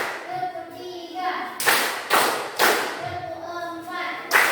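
A group in a classroom claps together in short bursts, several sharp collective claps spaced out between chanted voices, loud and close.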